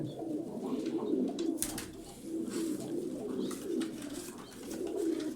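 Pigeons coo in repeated soft, low rolling calls at close range, with a few faint background noises between the phrases.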